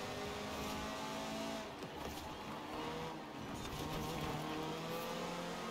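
A KTM X-Bow GT4 race car with a single turbo and about 400 horsepower, racing laps in Forza Horizon 4, its engine droning steadily and loud throughout with shifting pitch as it accelerates.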